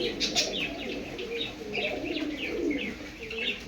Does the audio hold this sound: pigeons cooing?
yes